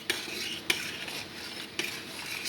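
Tomato paste being stirred into Polish tomato soup in a pot: a continuous close swishing and scraping of a utensil, punctuated by three sharper metallic knocks.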